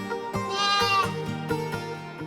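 A lamb bleats in a wavering, drawn-out cry, close and fairly loud, with steady harmonic calls repeated over about two seconds and no talking.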